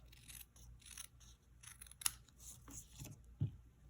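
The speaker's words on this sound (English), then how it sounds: "you can just take your paper snips and you can trim this" Paper snips trim cardstock in a few soft, quiet cuts spread across a few seconds, with one sharper click in the middle and small scrapes and handling noises between them.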